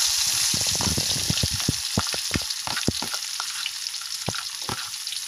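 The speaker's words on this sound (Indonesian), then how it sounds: "Sekarang kita memasukin bawang merah sama bawang putih." Shallots and garlic sauté in a hot pan with a constant sizzle. Repeated sharp scraping taps from a spatula ring out up close, and nobody talks.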